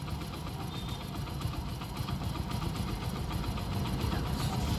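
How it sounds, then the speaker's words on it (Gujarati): A motorcycle engine idles nearby with a steady, rapid chugging rumble that holds constant throughout. "હવે ફરી એક વખત બાઇક ચાલુ કરીને ચેક કરીએ। તો ચાલુ થઈ ગઈ છે."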